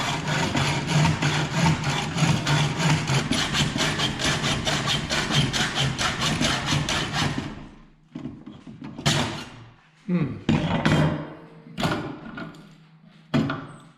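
A hacksaw cuts through copper tubing with fast, steady back-and-forth strokes for several seconds, then a few slower, scattered strokes and scrapes as the cut finishes.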